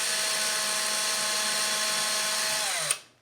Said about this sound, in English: We'll grab our drill with that little 1/16 or 1/8 of an inch drill bit in it.